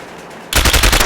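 Automatic gunfire in the video game SAS: Secure Tomorrow, quiet at first, then a loud, rapid burst of machine-gun shots that starts abruptly halfway through and continues to the end.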